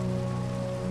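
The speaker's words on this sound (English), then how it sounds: "it's raining" Steady, dense rain hiss falls in Minecraft, a continuous wash of raindrops on surfaces with a low ambient drone beneath, filling the short moment without any speech.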